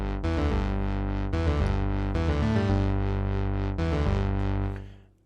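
Repetitive synth bass line in 13/8 time for a game soundtrack, a loud, sustained pulsing pattern with regular accented restarts, playing alone before fading out at the end.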